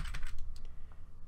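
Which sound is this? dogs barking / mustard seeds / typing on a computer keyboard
typing on a computer keyboard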